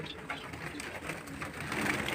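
Soft, low pigeon coos murmur continuously in the background with faint rustling, fairly quiet and close.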